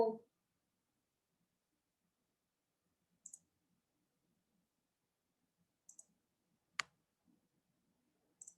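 A computer mouse clicks in a quiet room, with sharp little clicks in short pairs spaced a few seconds apart and near silence between them.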